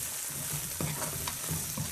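Fenugreek leaves fried with chili powder and salt sizzle steadily in a pan, with a few soft scraping strokes of a spoon stirring them through the quiet, close hiss.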